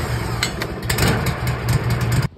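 A cold Wood Mizer sawmill engine idles steadily to warm its oil, a loud close running rumble with a few small surges that cuts off abruptly at the end.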